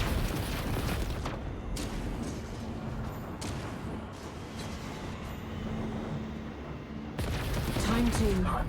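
Automatic weapon fire from a minigun or missile launcher in the space-combat game Chorus, a dense continuous roar of rapid shots and booms running steadily throughout, with a brief lull near the end before a louder burst returns.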